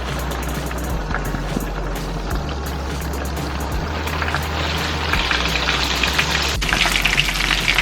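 Sesame seed chicken pieces fry in hot oil with a steady, close crackle and sizzle that grows a little busier toward the end, alone without talk.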